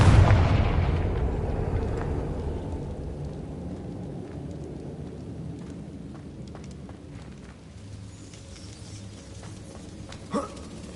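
A Confringo spell explosion in Hogwarts Legacy opens with a loud booming blast that rolls off into a long, fading rumble, with a smaller pop near the end.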